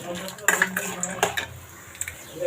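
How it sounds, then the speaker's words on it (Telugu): Chana dal and peanuts stirred in a hot pan for cabbage pachadi, a close run of irregular metallic scrapes and clinks from a spoon against the pan, with a faint sizzle underneath. "1 స్పూన్ పచ్చెనగపప్పు వేసుకుందాము. వేసుకుని దీంతో పాటు కలిపి వేపుకుందాము."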